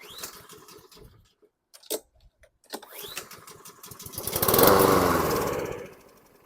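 A 2013 Troy-Bilt TB130 lawn mower engine is cranked with short pulls, then fires and catches, running loud and close for a couple of seconds before dying back down.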